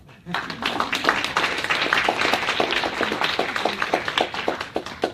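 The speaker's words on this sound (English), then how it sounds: "now you can applaud" Audience at an evening event applauding, a dense steady patter of many hands clapping at moderate distance, mixed with a murmur of voices, continuing for several seconds.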